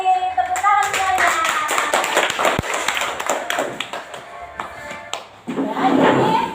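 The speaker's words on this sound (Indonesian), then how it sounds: "Terima kasih, tepuk tangan semuanya." Elementary classroom at SD Alhilaal 2 Namlea breaking into applause from students, dense steady clapping that fills the room, with children's voices mixed in.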